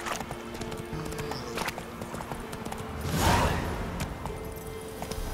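Roach the horse galloping through The Witcher 3 game world, a rapid rhythmic clip-clop of hooves under soft ambient game sound, with a brief whooshing swell midway.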